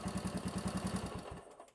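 Vintage Honda motorcycle engine idling steadily nearby, a rapid even pulsing putter that fades out near the end as the engine is shut off.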